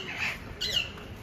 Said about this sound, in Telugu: చూడండి గైస్, ఇది ప్యారెట్,